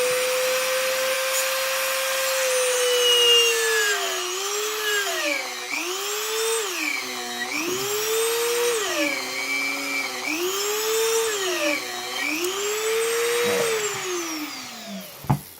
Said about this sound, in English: If I continue to push that through, it's going to end up completely bogging down the Dremel here.